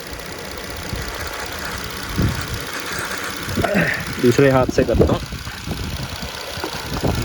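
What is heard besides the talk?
car engine shaking and misfiring after a connector is disconnected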